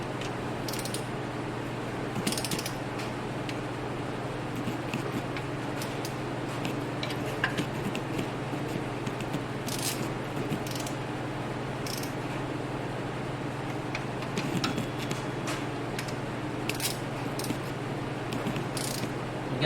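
Torque wrench tightening nuts in a crisscross pattern on a Toyota 3.4 engine during timing belt and water pump work, giving soft repeated ticking and ratchet clicks over a steady low hum, fairly quiet and continuous.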